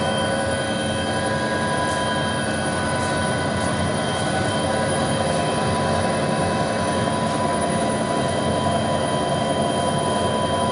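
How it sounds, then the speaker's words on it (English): Helicopter flying over a remote gold and copper mine, heard as a loud, steady, unbroken rotor and engine roar from inside the aircraft, with no voices. "I'm going to run about a couple minutes of footage from the helicopter itself as we're going over the mine"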